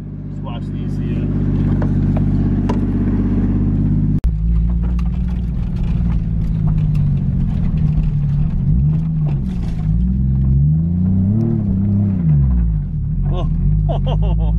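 A car prepped for drifting at Ebisu in Japan idles with a deep steady drone close by, then its engine rises and falls in pitch as it revs and pulls out.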